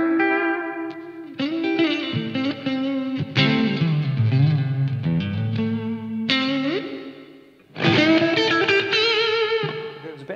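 An electric guitar through a clean amp and a reverb pedal rings out in sustained chords and bends, washed in reverb, with lingering tails between phrases.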